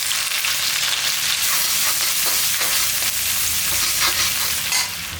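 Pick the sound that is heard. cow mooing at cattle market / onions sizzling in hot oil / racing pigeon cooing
onions sizzling in hot oil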